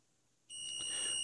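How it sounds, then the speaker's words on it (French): A fire alarm repeater panel's buzzer switches on abruptly after a quiet moment and holds a steady, shrill electronic tone close by. "on vient remettre en service le buzzer"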